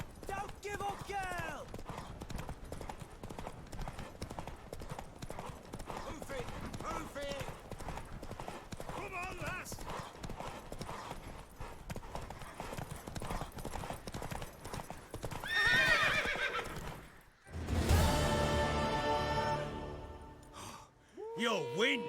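Hooves pound in a steady galloping rhythm throughout in The Witcher 3 while voices shout and talk over it, and a horse whinnies loudly near the end.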